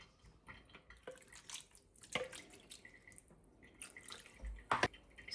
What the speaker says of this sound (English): I'm just going to put some water to get all the stuff out from here.